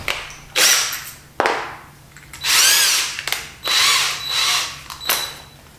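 A handheld power drill recesses a bolt hole in nursery furniture, whirring in a series of short close bursts with sharp starts and stops, some pitch sweeps as the motor spins up, and no talk.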